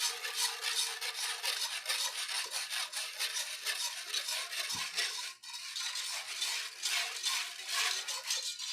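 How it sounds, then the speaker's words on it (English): Cold plant milk is whisked into a hot, blonde roux for a vegan Alfredo sauce. A steady, close, rapid scraping churn runs throughout with only a brief break, and no one speaks. "Whisk in your cold plant milk to the hot roux."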